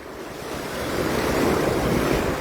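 Sea waves washing onto a beach in Hilongos, Leyte, a broad steady rushing surge that swells gradually, with wind buffeting the microphone and no voices.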